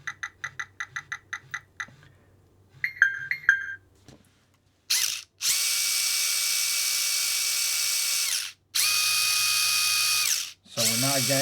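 A Furitek Micro Beast brushless RC motor on a bench spins up under throttle in several long, steady high-pitched whining runs, each one broken by a short stop. Brief clicks and chirps come before the runs.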